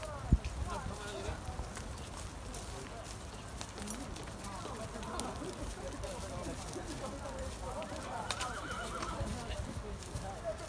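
Horses at an equestrian ranch gathering whinny now and then over a continuous patter of hooves clip-clopping, with a crowd murmuring and a commentator talking throughout.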